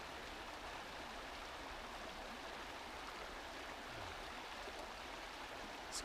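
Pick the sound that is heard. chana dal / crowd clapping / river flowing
river flowing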